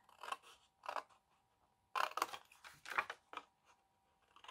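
Scissors make several separate snips through paper for a Christmas gift box, in short crisp bursts with brief pauses between them, close and fairly quiet.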